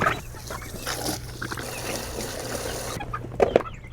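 Chickens, likely young chicks, cluck and chirp softly in a quiet coop, with a few scattered calls and a brief louder flurry near the end.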